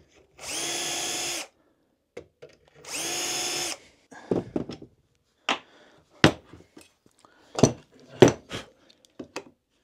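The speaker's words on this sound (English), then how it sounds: "drill through them two 45mm, I'll use my Festool drill for this" A Festool power drill whirs in two steady bursts drilling pilot holes for a cabinet door hinge, followed by a series of sharp knocks and clatters of tools and wood.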